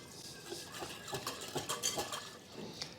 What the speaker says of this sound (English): or 7 grams of active dry yeast. And then whisk.